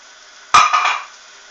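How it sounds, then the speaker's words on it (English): Bacon strips dropped into a pan of hot, foaming melted butter give a sudden close sizzling burst that swells for about half a second, then fades back to a soft steady hiss. "the butter's melted. Wait for it to get a little bit hot. And then we'll put our bacon in."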